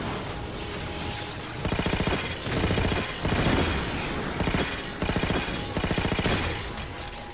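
A sentry gun in the video game Halo 4 fires in sustained rapid bursts, each string of shots a dense mechanical rattle with brief gaps between volleys, loud and close.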